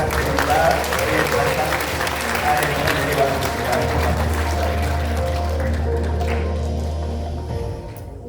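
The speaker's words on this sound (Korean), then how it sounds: "우리 직능단체 대표님들에게 다시 한번 박수 부탁드립니다" Audience applause for representatives of professional associations at a Korean event, dense sustained clapping from a crowd that carries on steadily before fading near the end.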